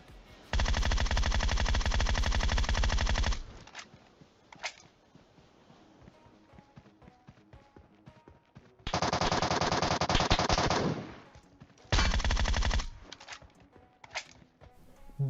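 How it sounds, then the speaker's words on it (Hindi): Automatic gunfire in the PUBG battle royale game around Pochinki: long loud machine-gun bursts of rapid shots, separated by quieter stretches with scattered single shots and background game noise. "या तो मेरे पाँव पे गोलियां पेल रहे थे, या तो बंदा सिर्फ और सिर्फ गाड़ी फोड़ने की कोशिश कर रहा था"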